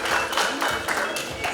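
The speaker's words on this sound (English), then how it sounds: "A huge round of applause, ladies and gentlemen." Brief burst of audience applause at a youth business awards ceremony, a dense wash of clapping that carries on unbroken through the short moment.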